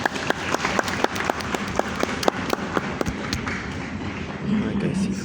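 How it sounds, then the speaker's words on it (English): A small audience claps at a hot glass show in a glassmaking demonstration space, starting with sharp, distinct claps that merge into a steady round and then fade as a voice begins talking near the end. "Let's start with a nice round of applause to start."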